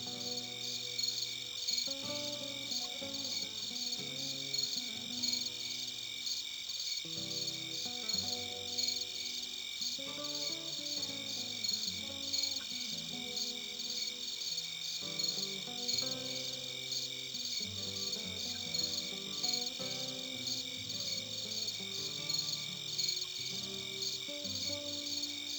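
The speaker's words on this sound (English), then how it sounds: "Whether the crickets annoy you or not, I'll let you be the judge." Steady insect chirping like crickets fills the background throughout, layered with continuous tonal music from the Siege of Avalon video game, no talk.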